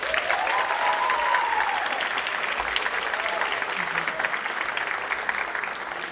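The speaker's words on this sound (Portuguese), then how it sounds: "a quem eu peço uma salva de palmas" A conference audience at a roundtable session gives a professor a round of applause: steady, even clapping from a sizable crowd, moderately distant, sustained throughout with a faint voice briefly over it at the start.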